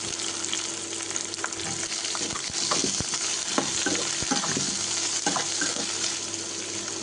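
Onions sizzling in hot oil with curry leaves and green chilies in a pan, a dense continuous frying hiss broken by sharp spatula clicks and scrapes, close and steady.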